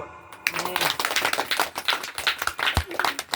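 A congregation claps at a Telugu Christian sermon, a dense, brisk patter of hand claps that runs the whole time, with a preacher's voice mixed in beneath.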